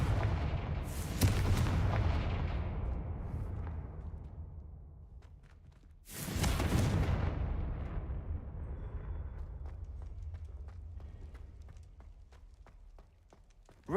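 Two heavy explosions from the Confringo spell in Hogwarts Legacy boom several seconds apart, each with a loud burst that decays into a long rumbling tail, with small crackles between.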